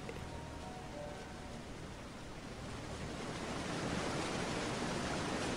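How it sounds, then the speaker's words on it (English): A white noise DJ set plays inside a Sanrio VR game as a steady hiss that grows slightly louder toward the end, with no voices over it. "It's a white noise DJ set."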